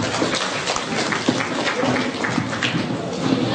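Applause from a congress audience of restaurateurs and hoteliers at a workshop session, a steady dense wash of clapping filling the room throughout, with faint voices mixed in.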